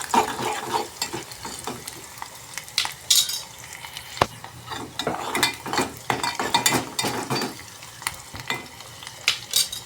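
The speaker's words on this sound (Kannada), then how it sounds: "ಹಸಿಮೆಣಸಿನ್ಕಾಯಿ, ಸ್ವಲ್ಪ ಫ್ರೈ ಮಾಡೋಣ ರೀ." Onion and green chillies fry in a pan, a steady sizzle with frequent scraping and clinking of a spoon stirring against the metal, close and continuous, with no talk.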